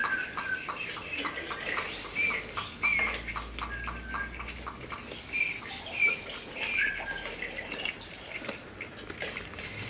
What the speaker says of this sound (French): Le chant des oiseaux résonne à travers la cime des arbres.